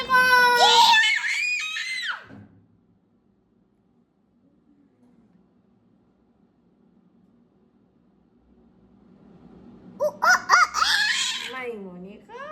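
A voice imitates a rooster crowing, a shrill rising call near the start, then a long quiet stretch before another burst of high, wavering vocalizing near the end.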